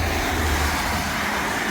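A passing car with an obnoxiously loud exhaust gives a steady, broad roar that stays constant and fairly close throughout, with no talk over it.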